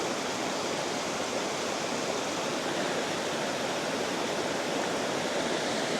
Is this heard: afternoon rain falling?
no